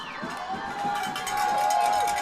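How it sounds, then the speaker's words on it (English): A football crowd swells in volume at a high school game between Scott and Nitro, a broad roar of cheering that builds and stays loud throughout, with a steady whistle-like tone running through it. "Crowd getting loud."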